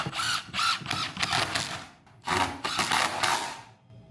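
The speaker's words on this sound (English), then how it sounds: "Now all we gotta do is drill and screw." A power drill drives screws into the frame of a mobile chicken coop: several short whirring bursts, then two longer runs, loud and close, with no talking.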